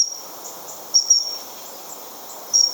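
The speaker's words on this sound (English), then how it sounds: "Their call is a simple seep" A dunnock in a Hampshire garden gives a thin, high seep call several times, with short isolated notes standing out over soft insect-like background hiss.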